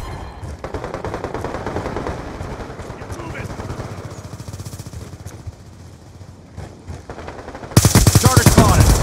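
Rapid automatic gunfire from a Call of Duty Black Ops II match, dense bursts running throughout and growing sharply louder near the end, with voices calling out over the shooting.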